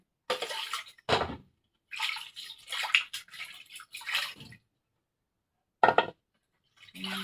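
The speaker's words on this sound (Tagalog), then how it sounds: "huhugasan ko muna yung isda bago maghugas ng plato" Water splashing and pouring in bursts as a milkfish is rinsed by hand in a kitchen, with short gaps of silence between the washes.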